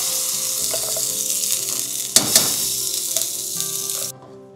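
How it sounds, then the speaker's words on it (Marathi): A ground masala paste sautés in hot oil with curry leaves for amti, a steady close sizzle with a couple of sharp spatula scrapes midway, ending abruptly; no one speaks. "आपण आता हा मसाला आता परतून घेतोय"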